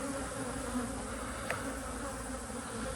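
Honey bees hum steadily around a stack of nine full honey supers in an apiary, a continuous close buzz with one brief louder pass midway and no talking.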